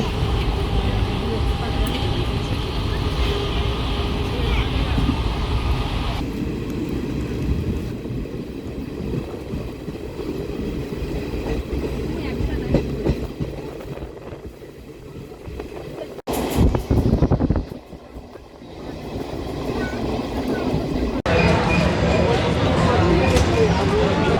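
Black Diamond Express train from Howrah running near Raniganj station, a loud steady rumble that shifts and dips midway before building again.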